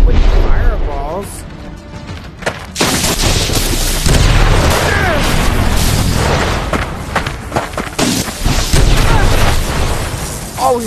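Bursting heads and fireball blasts in a video game, heavy booms and crashes scattered through the stretch at close range, mixed with game effects while a player talks excitedly over them.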